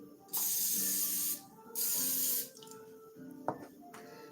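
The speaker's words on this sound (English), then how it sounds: "So let me spray it again." Two sustained hissing bursts from a can of cooking spray, each about a second long, followed by faint clinks and handling sounds.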